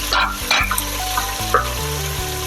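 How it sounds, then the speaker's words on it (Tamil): Curry leaves splutter and crackle in hot oil in a pan for fish curry. Close, loud sizzling with sharp pops and a few scraping stirs runs steadily, and no voice is heard. "கறிவிடம் பொரிஞ்சிட்டு இருக்கு"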